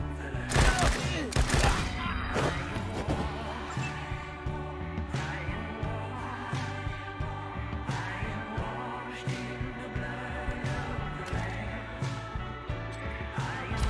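Gunfire in the Wasteland 3 video game: rapid bursts and single shots crack and thud repeatedly over a continuous low musical drone, with dense volleys near the start and sparser shots afterward.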